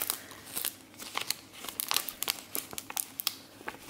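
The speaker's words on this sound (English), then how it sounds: "So I'm just peeling it up backwards." Cricut vinyl transfer tape being peeled backwards off a Dollar Tree mug, giving close, quiet crinkling and crackling in irregular bursts over about four seconds, with no voices.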